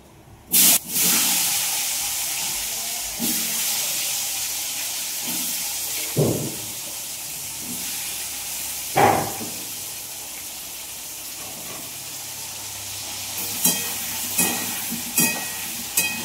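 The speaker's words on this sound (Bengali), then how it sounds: "তো এদিকে বাঁধাকপি তরকারির জন্য আলুগুলো ভেজে নিচ্ছি।" Potatoes frying in a pan for a cabbage curry give a steady, moderately loud hiss and sizzle, with a few sharp clatters of utensils and stirring scattered throughout and no voices.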